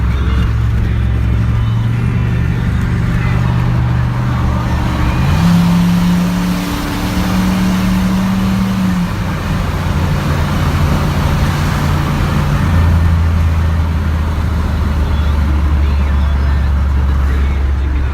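A work truck's engine drones steadily as it drives onto a highway, with a low rumble that rises in pitch midway as it accelerates, then settles into a cruising hum; loud and continuous throughout.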